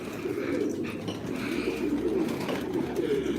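A large flock of pigeons cooing together, a dense continuous murmur of overlapping coos close by, with no talk.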